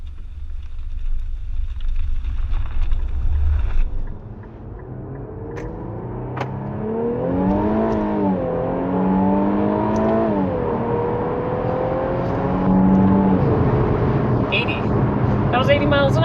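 Infiniti Q50 sedan accelerating along an open Idaho road, engine note rising through several gear changes over steady road and wind noise, heard from inside the cabin.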